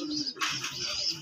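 Pigeons at a pigeon sale give a brief burst of close chirps and soft calls over a low murmur of background noise.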